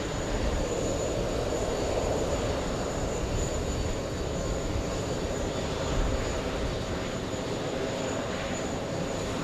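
Boeing 767 airliner engines at JFK airport, a loud continuous rumbling roar with a faint high whine, steady across the whole stretch.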